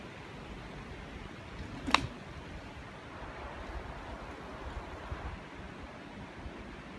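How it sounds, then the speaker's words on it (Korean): Mountain valley stream at Yukmojeong near Jirisan in Namwon, a soft continuous wash of flowing water heard steadily throughout, moderately faint, with a brief knock or click near the start. "와 벌써부터 계곡 물소리가 막 들리는데"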